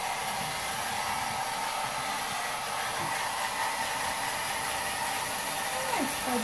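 A hair dryer blows with a steady, loud whooshing hiss from start to finish, with faint voices murmuring underneath.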